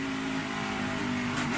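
The fuel-injected engine of an ARCA race car refires and hums steadily in a mid-range drone, loud and close, with a brief rise near the end.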